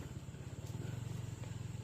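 A Honda Click 160 scooter engine chugs at a low, pulsing idle-like rhythm on a muddy trail, moderately close and fairly quiet, with faint clatter over it.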